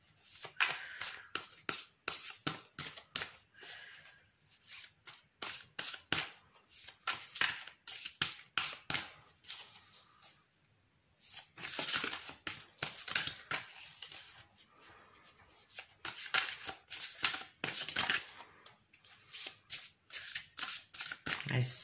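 A deck of tarot cards is shuffled and cut by hand, bursts of riffling and sliding card clatter in repeated rounds with brief pauses, close up, while someone talks quietly over it.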